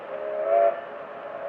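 A single steady train whistle sounds, a sustained tone that swells slightly in the middle and holds for over a second.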